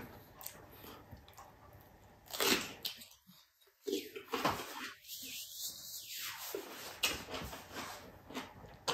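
A person bites into a crunchy stem of fermented mustard greens, with sharp crisp crunches followed by close, chewing sounds.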